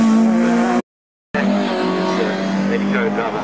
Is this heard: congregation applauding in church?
no